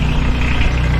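A garden tractor engine idles steadily up close, a loud, even low rumble with no pauses for the whole short stretch.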